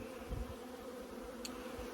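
Honey bees buzz around wet honey supers in warm weather, a faint steady hum close by with no talking.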